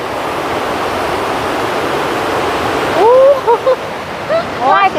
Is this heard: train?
no